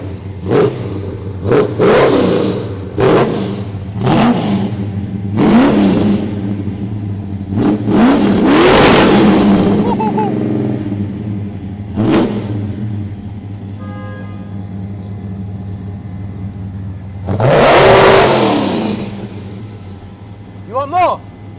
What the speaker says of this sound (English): Let's start the car up, actually.